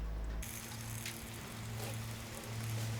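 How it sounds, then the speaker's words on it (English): Steady broadband hiss of rain falling on an outdoor film set laid with fake snow and grasses, constant and fairly close, with a low steady hum underneath. "That's rain."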